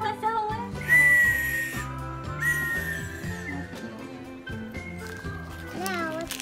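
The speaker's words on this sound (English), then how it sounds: "it's a whistle." A child's toy whistle from a gift box tooted repeatedly in short, shrill bursts, close by, mixed with children's voices and steady background tones.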